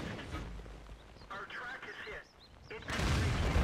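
Tank cannon fire in the video game World of Tanks, a heavy boom at the end following rumbling battle noise, with someone talking through most of it.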